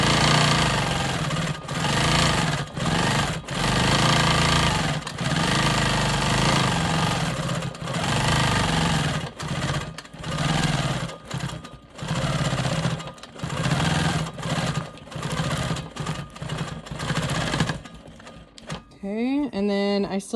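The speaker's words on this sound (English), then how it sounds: "So I'm going to do my free motion swirls in this triangle behind my presser foot." Quilt Maker Pro 20 sewing machine stitching free-motion swirls on a quilt block, a loud steady motor hum with rapid needle pulses that start and stop in short bursts, nearby and continuous.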